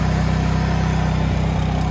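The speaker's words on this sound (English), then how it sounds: "As you hear the generator revving up a little bit" An inverter generator running under high load, a close, loud, steady engine drone with a low throbbing pulse that holds evenly throughout.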